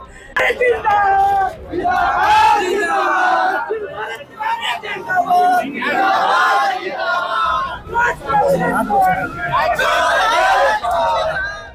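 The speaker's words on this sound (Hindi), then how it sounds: "यहाँ जो लोगों की भीड़ है और लगातार सरकार के खिलाफ नारेबाजी भी लग रही है।" Large crowd outside a family home raising repeated chants against the government, voices surging in loud waves with shouting and babble between bursts, close and continuous.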